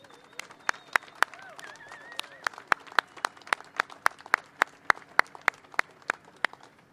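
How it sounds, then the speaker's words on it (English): Applause at a Walk of Fame ceremony in Saratoga, sparse individual claps ringing out in a quick irregular rhythm, close and crisp, while a voice talks briefly underneath at the start. "Let's give them a warm round of applause."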